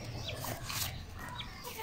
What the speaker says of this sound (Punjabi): ਇਹ ਵੀ ਕੁੱਕੜ ਹੈ